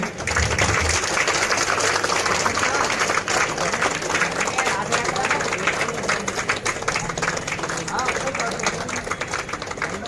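A crowd claps at a YSRCP political rally in Kakinada, with dense, steady applause filling the whole stretch and voices mixed in underneath.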